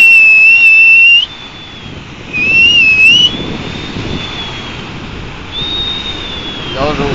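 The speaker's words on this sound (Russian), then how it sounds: "Я уже устал свистеть" Clear high-pitched whistled tones, several sustained notes with gliding pitch, over outdoor background rumble.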